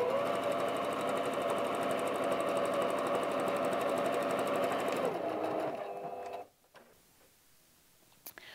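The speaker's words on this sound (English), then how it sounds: "So we're just going to run a very simple straight stitch using the edges of the foot as the guide" A sewing machine runs a long, steady straight stitch on white fabric for about six seconds, close and even, then slows and stops, leaving near silence with a faint click at the end.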